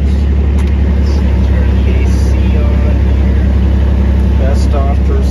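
A Kubota X900/X1100C utility vehicle with a diesel engine runs in a steady, loud, close drone, with faint voices and small clatters on top.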